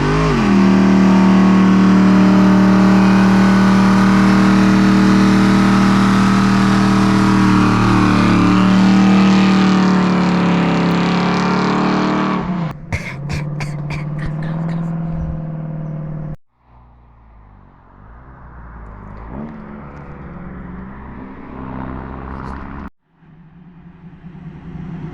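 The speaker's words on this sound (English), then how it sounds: "Did a couple spirited heavy foot burnouts yesterday." A 1973 Pontiac Ventura with an LSX V8 roars through a heavy-foot burnout, loud and sustained at high revs for about thirteen seconds, then drops to a rough idle with short blips and brief cutouts.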